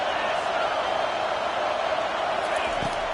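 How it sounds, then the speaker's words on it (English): Loud stadium crowd at a college football game between the Bulldogs and South Carolina, a dense, steady roar of noise with no breaks, heard up close. "It is getting loud as this crowd tries to help its defense."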